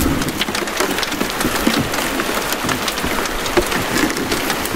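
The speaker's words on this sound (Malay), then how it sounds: "Hujan dah turun" Heavy rain pours steadily beside the Perak River in Malaysia, a dense, continuous hiss of drops striking water and ground, close and loud throughout with no voices.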